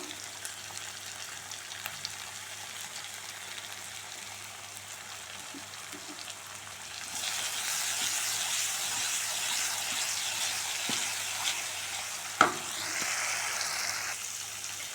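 Bread chilli mixture with lemon juice sautéing in a pan, a steady soft sizzle that grows louder and brighter halfway through, with a few small clicks and one sharp knock near the end.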